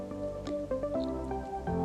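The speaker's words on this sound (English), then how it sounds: "So now I'm just rinsing my face." Soft, irregular drips and splashes of water while someone rinses their face at a sink, a few close wet plops over a faint tonal background hum, with no speech.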